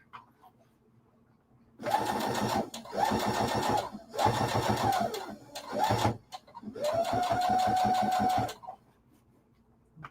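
Sewing machine top stitching a zipper on a fabric pouch: four close motor bursts of rapid needle stitching, separated by short stops, with little else around.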